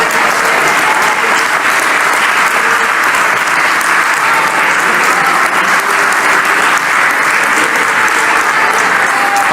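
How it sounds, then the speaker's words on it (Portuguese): Church congregation applauding during worship, loud sustained clapping from a large crowd throughout, with no talking over it. "Vocês podem aplaudir a Jesus, adoradores?"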